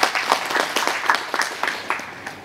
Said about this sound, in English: Please give him a round of applause to encourage him.